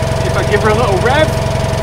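A Citroen 2CV engine idles with a fast, even mechanical chatter, nearby and loud, as someone talks over it throughout.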